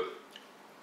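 A single short, low burp from a person in a kitchen while a vegan sweet potato salad is being made, close and brief, fading into quiet room tone.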